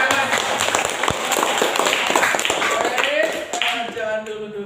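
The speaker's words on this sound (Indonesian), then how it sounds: "Beri tepuk tangan." Students in a classroom give a burst of applause after a batik-motif presentation, brisk clapping filling the room with some voices mixed in, then fading toward the end.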